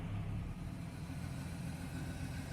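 A 15-year-old high-output 4-liter engine, reluctant to idle, running at a steady, rumbling idle with a low, even drone throughout.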